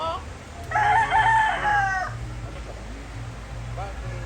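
A rooster crows once, loud and drawn out, over a steady low hum, followed by quieter background noise and a faint brief call.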